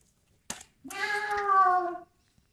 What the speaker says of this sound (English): And now he's meowing at us.